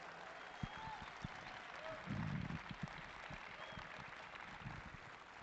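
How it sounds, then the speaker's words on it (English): A crowd applauds at a livestock show arena during a junior market steer event, a faint, even patter of clapping that lasts throughout. "So give her a great round of applause."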